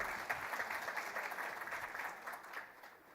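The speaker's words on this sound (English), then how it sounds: "Shall we please give our chair lady a massive round of applause?" An audience at a women in finance and insurance summit in Namibia applauds the chair lady, a dense, even burst of clapping that tapers off near the end, with no voices over it.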